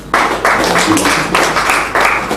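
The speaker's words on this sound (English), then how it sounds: "The visit ended on a high note with applause and cheers from Ratau members" Applause and cheers from Ratau members, clapping in a loud, pulsing rhythm of repeated surges with a voice faintly underneath.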